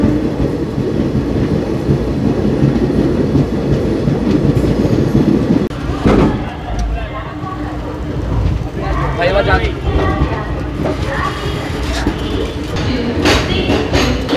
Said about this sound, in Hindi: 7:27 पे हमारी ट्रेन का अराइवल हो गया है रेणीगुंटा जंक्शन रेलवे स्टेशन पर